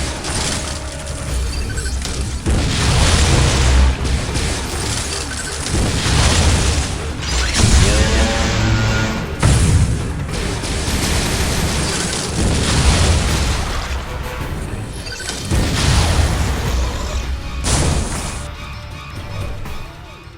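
Missile fire and explosions in the video game Metroid: Other M, a dense, loud, continuous barrage of booms and crashes that swells and recedes for about twenty seconds, with no speech.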